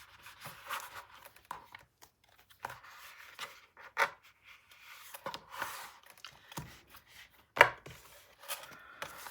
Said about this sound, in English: very gently, I'm going to burnish because I don't want to scrape off any of my goodies